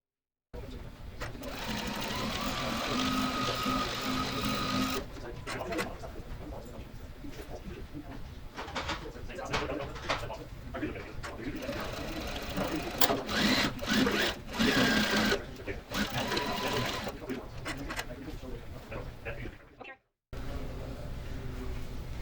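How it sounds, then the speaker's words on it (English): A sewing machine runs almost continuously, stitching fabric pieces together in long, loud whirring bursts with brief pauses. Faint background noise sits under the stitching. "now we're going to sew the rest of those pieces together"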